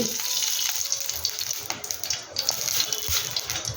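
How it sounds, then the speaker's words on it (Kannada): Coconut oil pours into a kadai with a rushing, hissing, sizzle-like wash of sound, steady and fairly close throughout. "ಕಡಾಯಿ ಇಟ್ಟಿದ್ದೇನೆ ನೋಡಿ ತೆಂಗಿನೆಣ್ಣೆ ಹಾಕ್ತಾ ಇದ್ದೇನೆ"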